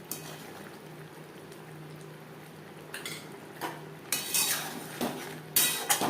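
Bitter gourd curry being stirred in a pan, a quiet simmering bubble under occasional scraping and clinking of a spoon against the pan, growing louder near the end.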